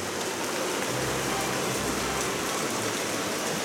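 Steady rain pours down outdoors near a shelter in the Okutama mountains, a dense even hiss of drops on surfaces that fills the whole stretch at moderate loudness with no voices.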